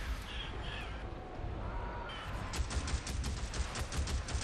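Gunfire in the video game Days Gone, a run of rapid, sharp shots packed close together in the second half, standing out over a steady background rumble.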